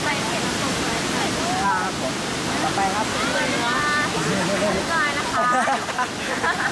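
Steady rushing roar of a waterfall at a sightseeing spot, a continuous broad wash of falling water with people chatting faintly over it.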